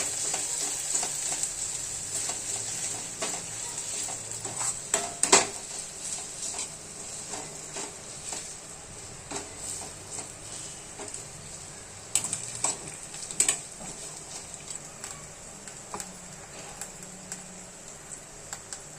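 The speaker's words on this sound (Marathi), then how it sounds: "एक चमचा अद्रक लसूण पेस्ट टाकत आहे" Ginger garlic paste frying in a pan for a prawn rice dish, a steady close sizzle with scattered sharp spatula scrapes and clicks throughout, no voices.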